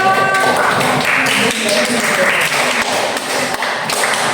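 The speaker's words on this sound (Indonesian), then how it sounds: "Tepuk tangan untuk kelompok Pangeran Diponegoro." Students in a classroom clap for a student group, producing dense, close applause with scattered thumps and taps throughout.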